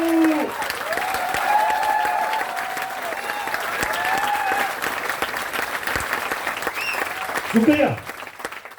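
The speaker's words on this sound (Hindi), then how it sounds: "मेरे लिए ताली बजाते रहो यार एक बार," Sustained applause from an audience at an indoor business training meeting, steady clapping throughout with a voice speaking over it and a brief remark near the end.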